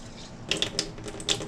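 Water running from a tap while long grain rice is rinsed, a steady soft splash with a few brighter spattering bursts, close by.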